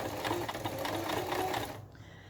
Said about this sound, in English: Make sure my machine is on the right seam allowance.